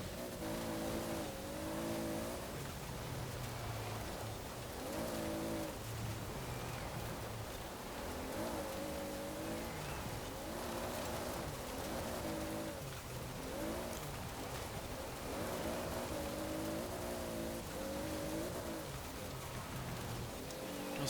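A twin-turbo 1992 Toyota Supra engine in the Forza Horizon racing game bounces repeatedly off the rev limiter, giving a stuttering series of high revving bursts over a constant rushing wash of noise.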